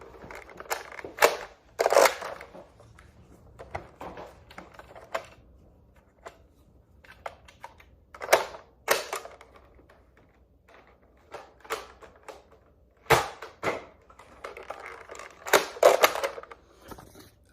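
A Nerf N-Strike Barrel Break IX blaster fires Elite 2.0 darts. Sharp plastic clacks and pops come in small clusters spaced several seconds apart, close and distinct against a quiet background, with softer handling rattles in between.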